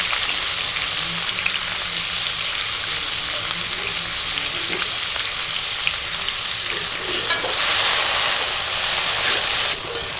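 Chopped potatoes with salt and turmeric frying in a pan, a loud continuous sizzle with occasional soft stirring scrapes throughout.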